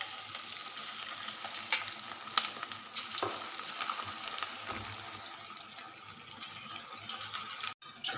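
Sweet corn pakodi frying in hot oil give a steady, close crackling sizzle throughout, with a few sharper pops and faint watery bubbling, and no one speaking.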